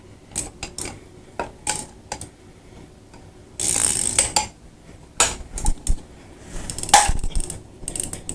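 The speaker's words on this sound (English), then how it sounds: "I have to change positions here and get a little more leverage." Ratchet clicks and metallic clacks from working a bearing puller on a motorcycle, arriving as short bursts of taps spread irregularly through the stretch, with a denser, louder grinding patch in the middle and no talking.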